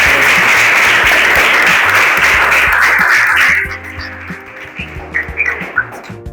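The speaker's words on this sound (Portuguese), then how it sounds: "Uma salva de palmas" A burst of audience clapping rings out loud and full, then cuts off abruptly partway through, leaving quieter room sounds and a few scattered sharp noises.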